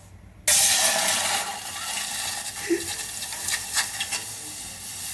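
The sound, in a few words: milk poured into a very hot vessel, hissing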